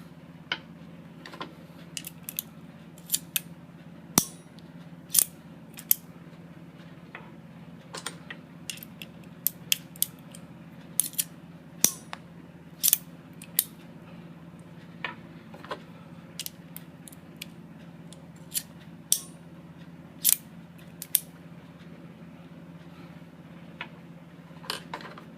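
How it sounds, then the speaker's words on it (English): An RCBS hand priming tool seats primers in 300 AAC Blackout brass cases with a steady run of crisp mechanical clicks and snaps, close and clear over a low constant hum. "So we're just going to stick it into our RCBS hand priming tool,"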